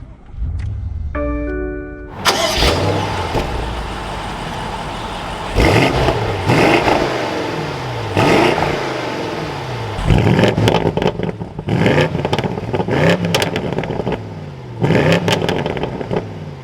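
A 2022 BMW M850i xDrive Gran Coupe starts up: a chime, then the starter and the engine barking to life loud and close, followed by a steady idle broken by several sharp revs.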